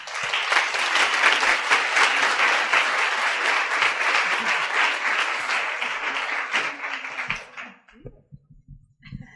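Sustained, full applause fills a women's conference hall after a speech, staying dense for about seven seconds before fading into scattered claps and a few faint murmurs.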